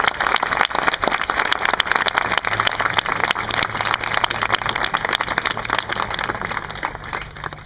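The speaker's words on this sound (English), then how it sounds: "How about a round of applause for these great soldiers on the field in front of us today?" A large audience at a 25th Infantry deployment ceremony applauds soldiers on the field, dense sustained clapping at full strength from start to finish, loud and close, with a low hum entering partway through.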